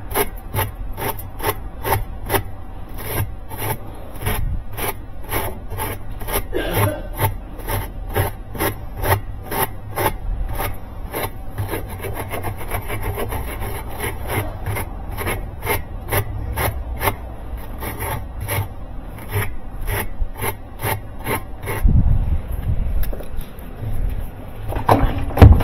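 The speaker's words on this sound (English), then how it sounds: "If you take the wire brush and clean these splines up." A wire brush rasps rhythmically in rapid repeated strokes over the splines of a Maytag/Whirlpool washer drive shaft, loud and close, alone until a heavier knock near the end.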